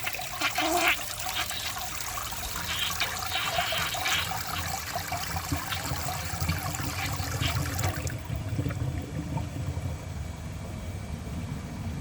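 A 2000 Mansfield Alto comfort height toilet flushes with a loud, powerful close rush of water that settles into a trickling refill, with no one speaking.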